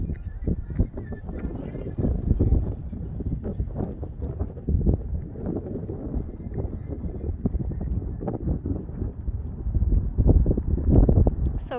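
Rough, buffeting wind noise blasting the microphone in uneven gusts on a cold, rainy day in Ireland, low and rumbling throughout.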